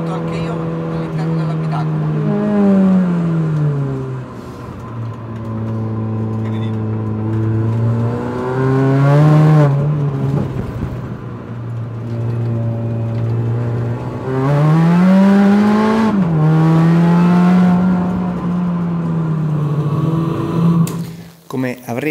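A Mini Cooper S R53 engine drones from inside the cabin with a deep exhaust rumble, revs swelling and easing several times, steady and loud throughout.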